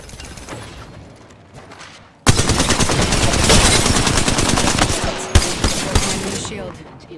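Rapid automatic gunfire from a Wraith player's weapon in the battle royale game Apex Legends, a loud sustained burst of shots erupting after a quieter stretch with a few softer sounds, then continuing for several seconds with sharp peaks near the end.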